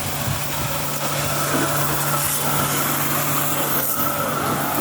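A used six-wheel truck's diesel engine runs as a steady, loud drone that holds fairly constant throughout, with no speech.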